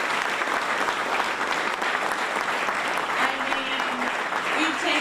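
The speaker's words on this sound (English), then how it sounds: "Let's give a round of applause to everyone." An audience applauds officials at a Gateway Tunnel project update held by Amtrak and NJ Transit. The clapping is dense, loud and steady for the whole stretch, with some voices mixed in.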